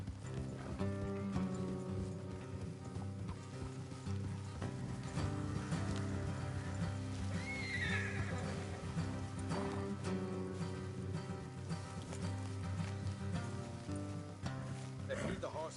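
Horses clip-clop steadily in Red Dead Redemption 2 with an occasional whinny, set among continuous game music and ambience, while voices talk over the top.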